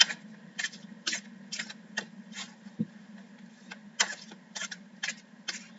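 Cards are shuffled at close range in a series of crisp riffling bursts, one every half second or so, with short pauses between them. A low steady hum sits underneath.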